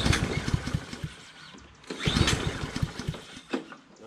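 A Power Smart 200cc self-propelled push mower engine being pulled to start, with two bursts of rapid chugging as the recoil cord is yanked, close and loud, dying away between attempts without catching.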